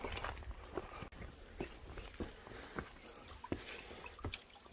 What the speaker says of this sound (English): Looks like there's a little waterfall here, and all the water trickles down here.